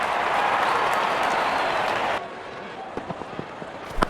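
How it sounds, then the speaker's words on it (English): Cricket crowd applauding a batsman's fifty at a T20I tri-series final between Bangladesh and Pakistan, a loud broad wash of clapping and cheering that cuts off abruptly, followed by scattered faint claps and knocks. "Wonderful 50 and the crowd applauds."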